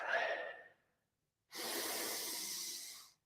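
Two deep breaths come close up during a breathwork exercise for mountain athletes: a long exhale hisses out and fades, then after a short pause a strong inhale rushes in and holds steady for more than a second.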